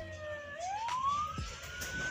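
An ambulance siren driven by a faulty siren module gives a faint, wavering electronic tone that sweeps upward and then jumps to a higher pitch, with some clicks and rough noise underneath.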